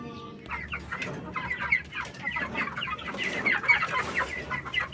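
Free-range chickens clucking busily at feeding time on a small organic farm, a dense overlapping chorus of close, chattering clucks with occasional louder calls.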